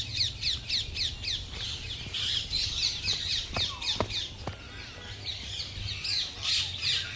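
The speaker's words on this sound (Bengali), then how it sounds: "দেখো কত টিয়া পাখি।" A flock of parrots squawking and chattering in rapid repeated calls in a park, with a few sharp clicks underneath and a constant low rumble.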